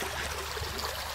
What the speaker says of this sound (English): a nice, good creek that you have yet to run through yet out here